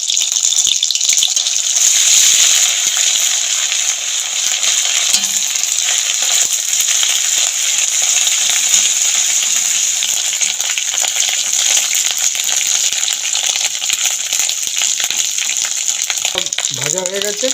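Ginger garlic paste frying in white oil for a Kashmiri chicken goshtaba gravy: a loud, steady, close sizzle that hisses continuously throughout, with faint stirring scrapes near the end.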